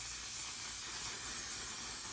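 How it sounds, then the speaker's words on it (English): One Size setting spray hisses in a single continuous burst from a nearby bottle, loud and steady throughout with no talk over it. "Now I'm gonna take one for the road of my lovely One Size setting spray."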